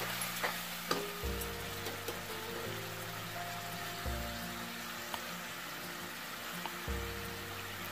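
Steady sizzling as tomato and masala paste fries in a pan, with occasional stirring scrapes and clinks, continuous and close throughout.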